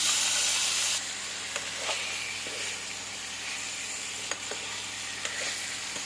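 Meat frying in oil with cloves, cardamom and cinnamon in a kadai, sizzling in a soft, steady hiss. It is slightly louder in the first second, then settles lower with occasional small pops and clicks.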